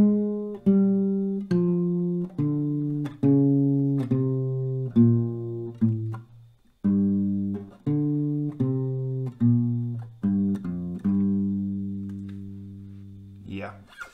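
Acoustic guitar playing a riff slowly: a sequence of plucked notes and short chord strikes with ringing sustain, a brief pause midway before the pattern repeats, close and clear with no talking.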